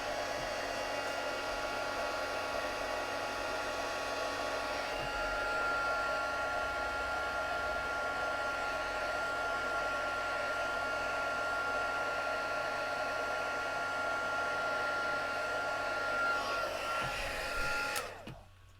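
A heat tool drying stamped ink on vellum blows with a steady, loud whirring rush close to the mic for about eighteen seconds before switching off.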